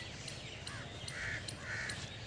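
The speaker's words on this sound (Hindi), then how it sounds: "और चारों तरफ चिड़िया के चहकने की ही आवाजें आ रही हैं।" A crow caws twice at mid distance during a morning walk in Punjab, with faint bird chirps and steady outdoor background noise between the calls.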